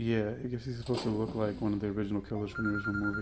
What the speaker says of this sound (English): That's the phone in the movie.